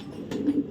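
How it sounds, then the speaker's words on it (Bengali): A large male racing pigeon, a black checker, gives a short, low, throaty coo close by, a brief rolling call with nothing else over it. "দানব একটা নর কবুতর। ডাক সারা দিন ডাকে, সারা দিন।"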